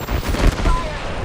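Gunfire in Apex Legends: a brief, loud, dense burst of rapid shots with a booming low end, filling the whole moment.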